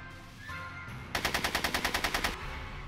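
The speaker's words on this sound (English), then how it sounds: "Are you shooting at me?" Rapid gunfire in Back To The Future: The Game, a quick burst of about a dozen evenly spaced shots lasting just over a second over a low game background.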